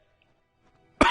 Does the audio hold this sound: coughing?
yes